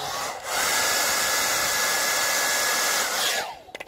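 A heat gun blows hot air onto vinyl wrap on a rusty car's rear bumper, making a loud, steady whirring hiss that runs for about three seconds before it winds down.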